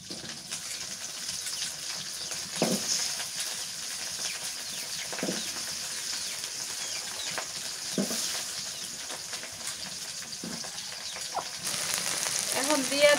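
Taro stems dropped into a pan of already-fried onion and chili, a soft steady sizzle running throughout, fairly faint, with a few scraping stirs and no talk.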